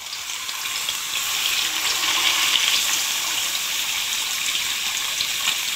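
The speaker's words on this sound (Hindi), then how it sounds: "कढ़ाई में मैंने ऑयल को गर्म कर लिया है। अब आराम से मैं फ़िश को इसमें डाल दूँगी।" Masala fish, Lahori style, frying in hot oil in a kadai, making a steady, loud, close sizzling hiss that holds without a break and with no talking.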